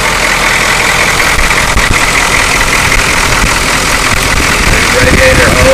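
A 1985 Ford F250 truck engine runs at a steady, rough idle, loud and close, a continuous drone with a prone-to-flooding condition.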